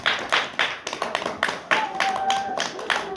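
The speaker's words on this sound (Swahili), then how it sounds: "Tupige makofi." A classroom audience at a geography lesson claps hands together in a quick, regular rhythm of sharp claps, close and distinct, with some voices mixed in.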